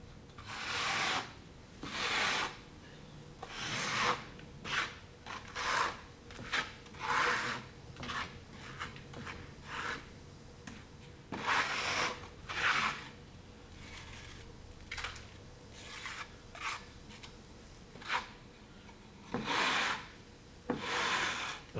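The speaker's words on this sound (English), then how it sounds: "We're going to go back to our float, our spatula, and our same material," Float and spatula rasp and scrape across tadelakt Moroccan lime plaster during its second coat, a close series of irregular strokes, some long and some short, with brief pauses between.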